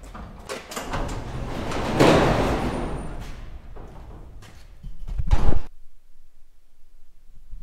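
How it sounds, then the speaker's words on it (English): Large shop doors on a farm are slid open by hand, giving a long rumbling scrape that builds and then ends in a heavy clunk before quiet. "Get these doors opened up so I can get a little more light in here."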